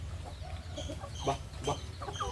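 Rooster on a farm clucking in short, repeated throaty bursts, close by, with other fowl faintly around it and no talk.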